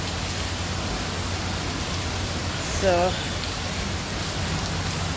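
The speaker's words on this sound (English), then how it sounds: "gotta wait for the rain to stop" Steady rain pours down during a storm outdoors, a dense continuous hiss that fills the scene, with a brief voice speaking over it partway through.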